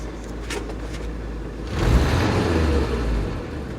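A 1964 Chevy engine idles with its choke on just after a cold start, a close, steady low rumble that swells a little louder midway and then settles back.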